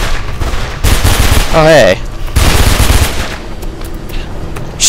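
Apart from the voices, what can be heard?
enemy gunfire in video game Mirror's Edge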